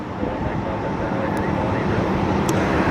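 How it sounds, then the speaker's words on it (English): Silver Airways flight 53, inbound from Orlando, arriving at Fort Lauderdale airport: a steady, fairly loud broadband jet-engine roar that holds even throughout, with no break or distinct events. "Silver, flight 53 inbound from Orlando."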